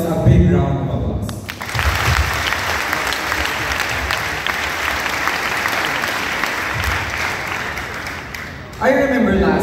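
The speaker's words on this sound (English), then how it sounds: "let us first give ourselves a big round of applause." Graduates in caps and gowns at a San Diego parochial school commencement break into a long, loud round of applause that fills the hall steadily for several seconds before a voice returns at the end.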